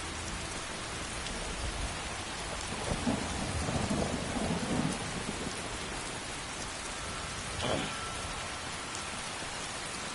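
Steady rain in the Skyrim video game, hissing evenly throughout, with rolls of thunder swelling near the middle and another rumbling crack toward the end.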